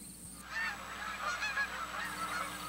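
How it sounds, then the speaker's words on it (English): Eastern Shoreman Canada goose call blown by hand, producing a run of sharp honks and clucks in a quick, uneven rhythm, close and clear against a quiet background. "The Eastern Shoreman is a very different goose call than any other you've used."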